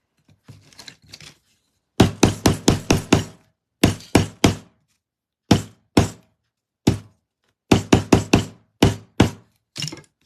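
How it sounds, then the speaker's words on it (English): Sharp hammer taps pressing a piece down on a Victorian steampunk wall picture, coming in quick clusters of knocks with short pauses between, close and crisp. "I'll hammer that down a little bit more."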